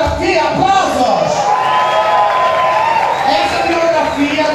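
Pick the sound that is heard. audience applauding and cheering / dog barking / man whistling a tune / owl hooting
audience applauding and cheering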